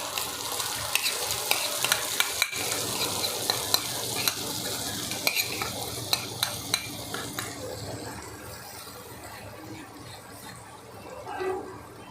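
Fried onions sizzle in a pan after a yogurt mixture goes in for Kashmiri-style dum aloo, with steady frying and repeated spatula scrapes and taps that ease off near the end.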